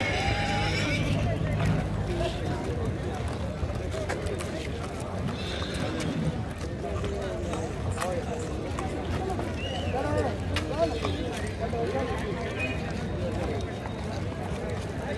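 Horses at a busy Dussehra horse market in Yeola, India, one restless animal among the stock, with hoof clatter and the odd whinny buried in a steady crowd babble and voices throughout.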